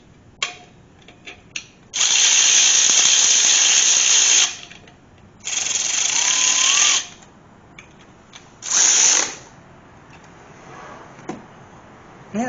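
A ratchet tightening a bolt on a big block Corvette engine bracket: loud, rapid clicking bursts, three long runs separated by pauses and scattered single clicks, close to the microphone.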